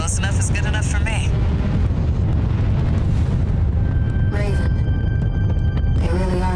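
Deep, rumbling explosions and blasts from the mech-combat video game Armored Core 6 roar continuously and loudly, with voices talking over the din.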